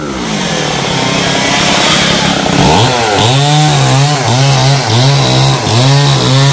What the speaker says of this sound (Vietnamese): đang cưa hai cây lồng mứt